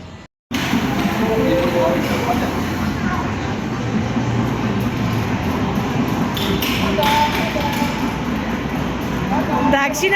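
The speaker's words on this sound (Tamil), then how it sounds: "அப்போ ட்ரெயின் ஓட்டுறா" A train rumbles steadily along the tracks, heard from inside with a continuous clattering roar and occasional rattles.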